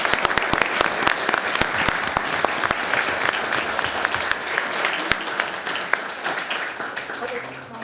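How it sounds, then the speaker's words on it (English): Applause at a Livonia city council meeting honoring an Eagle Scout award: a dense, steady patter of many hands clapping, fairly close, sustained for about eight seconds and easing slightly toward the end, with a little voice mixed in. "if everyone would join me in a round of applause for Sean in getting that"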